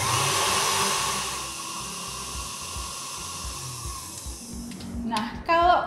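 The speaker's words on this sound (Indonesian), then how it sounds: "Kalau udah mulai berbuih, bisa kita masukin gulanya." An electric mixer beats egg whites with sugar for a gluten-free gingerbread cupcake batter, a steady whirring hum close by that shifts slightly near the end.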